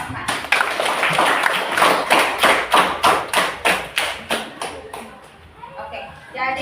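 Applause for group 4 in a classroom, a dense burst of many hands clapping loudly in steady rhythm, fading out near the end.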